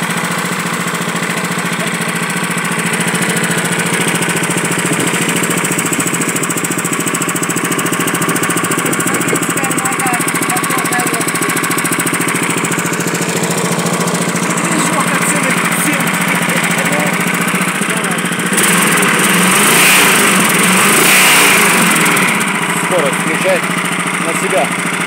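A Veterok-Lifan hybrid outboard motor being run in on a water barrel outdoors drones steadily and loudly close by, with a rougher, busier stretch toward the end.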